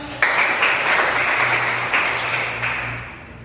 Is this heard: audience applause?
yes